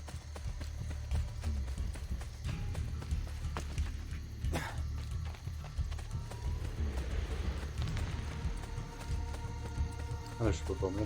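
Hoofbeats of a horse in the Assassin's Creed Brotherhood video game thud in a steady clip-clop beneath game music and ambience, with a brief whinny-like sound, all fairly soft.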